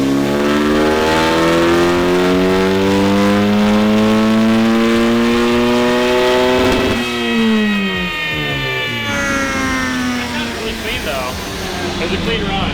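A turbocharged high-compression 1.6L Miata engine revs hard on a dyno. Its loud harmonics climb steadily to a peak, then drop off as the throttle closes, leaving a lower rumble.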